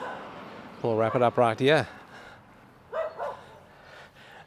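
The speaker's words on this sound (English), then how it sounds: "with another dog barking" A dog barks in a burst of four quick loud barks nearby, then two fainter barks follow after a pause. A person talks briefly around them. The setting is hilly rural blocks at Mount Nasura near Perth, Western Australia.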